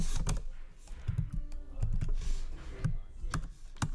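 Computer keyboard typing clicks in quick irregular bursts of keystrokes, close and clear over a soft room background, without speech.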